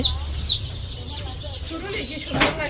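Newly arrived baby chickens at a village home give a few thin, high peeps near the listener while a person talks over them.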